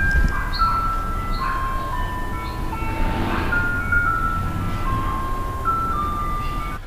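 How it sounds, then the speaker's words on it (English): A tinkling ice cream truck melody plays in the distance, its simple tune repeating over steady low traffic rumble. "Someone's playing like ice cream music in my neighborhood or outside."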